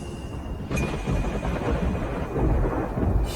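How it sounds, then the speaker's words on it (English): Thunder rolls across a dry sky with no rain falling, a loud, continuous low rumble that swells and holds for several seconds with no voices. "Thunder without rain."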